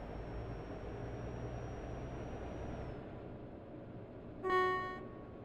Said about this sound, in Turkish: Tünelde korna çalmanın.